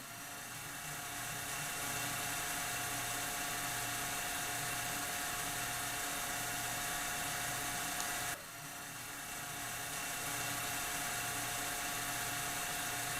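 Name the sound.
DC motor running at 1800 RPM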